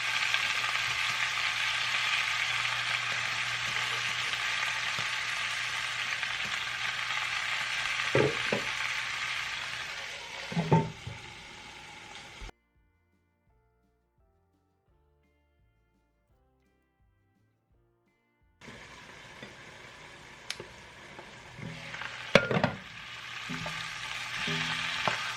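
Kale frying in a pan, a steady loud sizzle with occasional stirring scrapes, broken by a long stretch of silence before the sizzling resumes.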